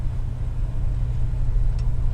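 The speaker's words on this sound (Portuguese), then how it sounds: "O V8 ronronando e essa maciez." A 1969 Ford LTD V8 purrs smoothly while driving, giving a steady low engine hum and road rumble at even loudness throughout, with no talk.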